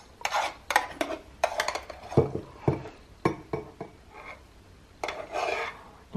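A big metal spoon scrapes and scoops froth from the jug of a Nespresso Aeroccino 3 milk frother, making a series of short, irregular rasping scrapes and clinks at close range with pauses between them.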